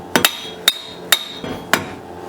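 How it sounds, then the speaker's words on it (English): Rubber mallet knocking on the front CV axle of a 2005-2010 Chrysler 300 to free it: five sharp, close blows in an uneven rhythm, the first two close together, each a dull thwack with a bright ringing edge, no talking. "Using a rubber mallet, let's make sure that the axle is free"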